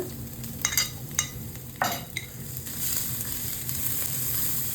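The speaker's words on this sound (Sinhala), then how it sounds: "තෙල් චුට්ටක් එකතු කරන පේස්ට් එක මම එකතු කරගෙන පොඩ්ඩක් තෙලේ මෙහෙම බැද ගන්නවා" Chili paste with salt frying in a little oil in a pan, with several sharp scrapes and clinks of a utensil at first, then a louder, steady sizzle building up, close by.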